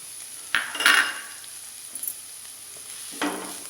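Spatula scrapes and clinks against a pan as mashed potato is stirred into frying chicken roll filling, a few distinct scraping strokes over a soft, steady sizzle, with no talking.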